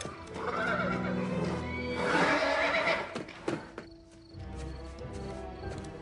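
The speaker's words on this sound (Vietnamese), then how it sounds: "Lũ ngựa không thích ở lại trong chuồng với cái thứ đó." Horses in a stable neighing: a long, loud whinny rises and falls over background hooves and chirping insects, followed by snorts and shuffling, near and clear, with no talk.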